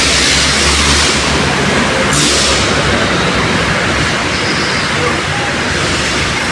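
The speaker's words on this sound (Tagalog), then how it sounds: "Grabing ulan, oh." Heavy rain pouring on a road near the Skyway toward the airport, a loud, constant broadband roar with no gaps, like a downpour hitting pavement close by.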